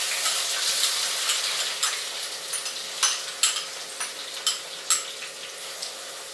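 Shallots frying in hot oil in a pan after fenugreek seeds have popped, for a Kerala fish curry: a steady close sizzle with scattered sharp pops and crackles, no voices.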